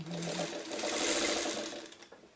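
A sewing machine stitching a quilt seam, heard as a close, rapid mechanical whir and needle patter that runs continuously for a couple of seconds, with no speech.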